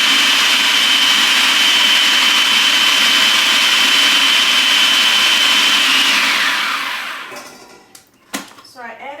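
A loud, continuous motor whine from a kitchen food processor mixing a black-eyed pea fritter batter runs steadily, then winds down and stops, followed by a few clattering handling sounds.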